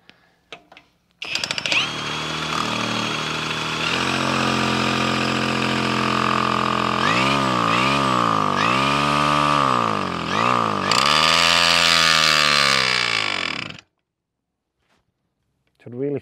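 A tiny 18cc two-stroke diesel moped engine runs for about twelve seconds, its buzzing note rising and dipping in pitch as it revs and surges, loud and close, then cuts out into silence.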